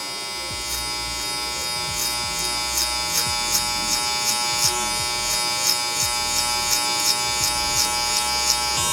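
Electric hair clippers fitted with a one guard buzz steadily and close by while cutting a soft taper, a bright continuous hum with a regular run of slight pulses as the blades move through hair, no one speaking.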